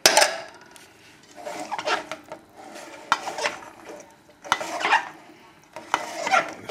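A spoon stirring a wheat berry, grilled vegetable and pinto bean mix in a bowl, with several uneven bursts of scraping and clinking separated by short pauses, close and fairly loud.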